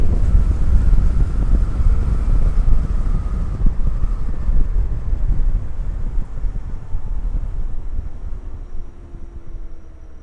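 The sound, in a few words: wind blowing during night motorbike ride in Tokyo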